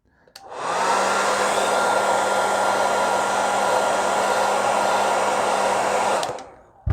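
Conair hair dryer blowing hot air onto an RC car decal, a steady loud whooshing drone that starts abruptly, holds evenly for about six seconds, then cuts off, with no talking.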